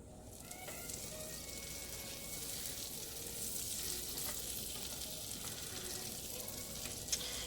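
Butter for a Cajun Alfredo sauce melts in a pan over a small burner, giving a soft, steady sizzle and crackle, faint and close, with the odd light stir and no talking.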